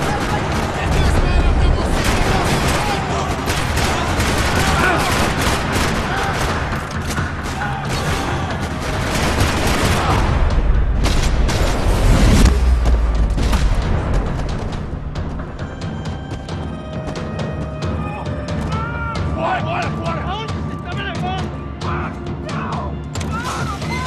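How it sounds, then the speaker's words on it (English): Dense, continuous gunfire in a parking-lot shootout in the video game Max Payne 3 on PS3: loud rattling bursts and heavy thuds that swell and fade across the clip, with occasional voices mixed in. "Another parking lot rattling with gunfire."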